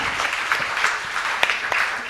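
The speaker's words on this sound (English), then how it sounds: "Can you give a round of applause for inspiring journey of ma'am?" An audience at a fireside chat with a CEO applauds, a steady patter of many hands with a few sharper claps standing out, brief and fairly close.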